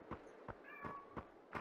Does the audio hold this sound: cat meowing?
yes